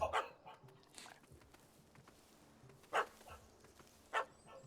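A dog barks in The Witcher 3 video game, sharp isolated yaps at a moderate distance over a quiet ambient game background, spaced a second or more apart.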